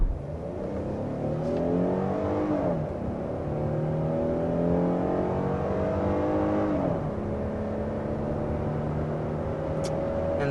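A 2023 Hyundai Palisade pulls hard up a hill to 60 mph, its engine droning from inside the cabin and rising in pitch through two gear changes, steady and moderately loud with no talking.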